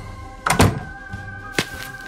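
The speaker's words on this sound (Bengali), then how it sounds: "ঋতু কিচেনে এসে একটা খোলা জানালা বন্ধ করে।" A kitchen window is pushed shut in a cartoon, giving two quick, fairly close thuds, followed by a softer knock about a second later against a faint room hum.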